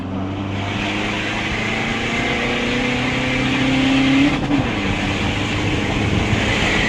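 A tuned Mitsubishi pickup's engine holds a steady, loud drone that climbs in pitch as it revs, with a rising whine near the end before settling back.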